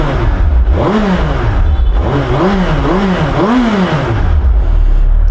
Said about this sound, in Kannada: ಸೊ ಬನ್ನಿ ಕೊನೆ ಟೈಮು ಸ್ಟಾಕ್ ಎಕ್ಸಾಸ್ಟ್ನ ಒಂದು ಸಲ ಕೇಳಿಸ್ಕೊಂಬಿಡೋಣ